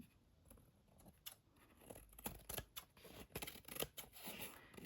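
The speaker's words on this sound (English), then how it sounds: "With my fabric scissors" Fabric scissors snip through fabric in a quick, uneven series of close, crisp cuts, with light rustling of the cloth between them.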